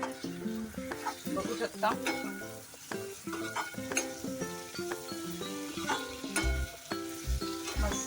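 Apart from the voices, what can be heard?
stirring kantoli vegetable with coriander in a frying pan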